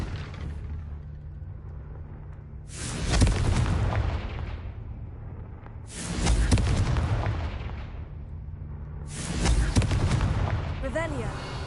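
Three heavy fiery blasts from the Confringo fire spell in the video game Hogwarts Legacy, spaced about three seconds apart, each a loud boom with a crackling, roaring decay, over a low steady game ambience.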